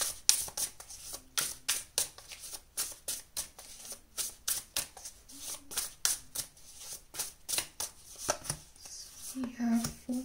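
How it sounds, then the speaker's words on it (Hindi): Tarot cards shuffled and drawn by hand, a quick run of soft, close riffling and flicking bursts in an uneven rhythm, with a voice speaking quietly underneath. "चलिए यहाँ से भी हम 4 कार्ड्स निकाल लेते हैं पहले।"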